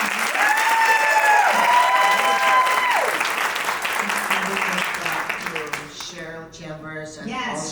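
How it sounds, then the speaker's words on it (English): Applause from the audience at a fibroid health expert panel, dense clapping sustained for several seconds under a voice that speaks over it, then fading as talk takes over near the end. "So can we just clap it up again for Dr. Katsnelson?"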